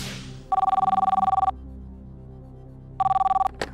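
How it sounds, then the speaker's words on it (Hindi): An outgoing call from a TV quiz studio rings through to a number in Mumbai: two electronic ringback bursts, each about a second long with a steady trilling pulse, separated by a quiet pause. "अतुल कसबेकर मुंबई में फोन लगाया जाए।"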